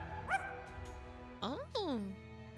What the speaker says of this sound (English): Bark more slowly.